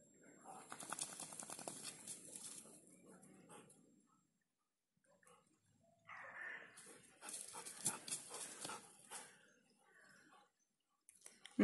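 A Labrador dog that has been playing in mud and swamp water whimpers and pants in bursts, with noisy breathing close by and a short quiet gap partway through.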